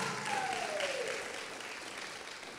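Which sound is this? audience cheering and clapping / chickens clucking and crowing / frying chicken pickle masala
audience cheering and clapping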